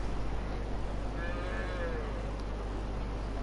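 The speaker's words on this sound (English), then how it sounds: "Stop mooing, all of you lot." Cows mooing in a train simulator game, one drawn-out low moo rising and falling over a steady rumbling background.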